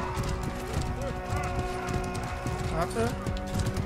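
Horse hooves clatter in a rapid galloping rhythm in the medieval combat game Mordhau during an 80-player invasion, loud and continuous amid battle noise, with a player talking over it.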